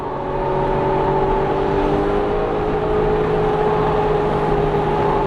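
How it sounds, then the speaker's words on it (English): Tyre roar from a 2016 Porsche GT3 RS on the move, a loud, steady droning rumble with a constant hum from inside the cabin, no voices over it. "The great thing about the tires this car is on right now is the noise it's giving you"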